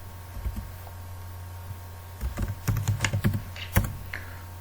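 Quiet keystrokes on a computer keyboard as a folder name is typed: a few scattered taps, then a brisk burst of typing, close but soft, with no talking.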